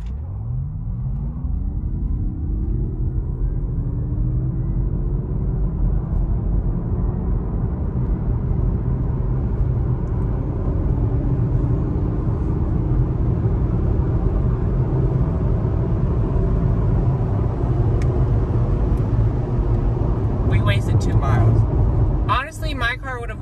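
A Mazda MX-30 electric car drives along twisty roads, giving a low continuous rumble of tyres and road noise that swells and settles through the bends, with faint clatter near the end.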